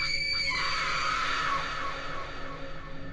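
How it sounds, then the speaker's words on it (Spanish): A woman lets out a long, loud, terrified scream in a horror story, high and sustained before trailing off. "Mariana pegó el grito más espantoso de su vida."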